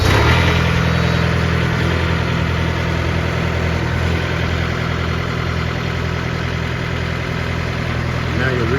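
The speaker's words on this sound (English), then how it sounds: "Starting the engine." A reefer trailer refrigeration unit's engine on a 2023 McLane trailer runs at a steady, loud idle, a constant low droning rumble throughout with no pauses.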